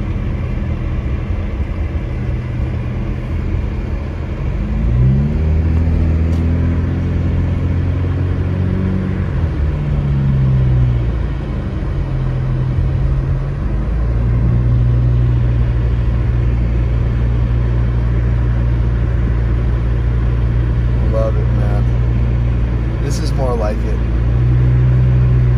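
A car drives through the snowy Moon Ridge neighborhood of Big Bear Lake, heard from inside as a steady low engine rumble with gear shifts and tire noise, while people talk throughout.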